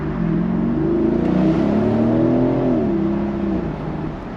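Mercedes SL550 accelerating hard from 0 to 60 in winter, heard from inside: a loud, sustained engine roar rising through the gears with rising and falling pitch sweeps, steady and close throughout.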